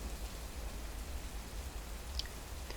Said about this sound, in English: the muffled sound of pattering raindrops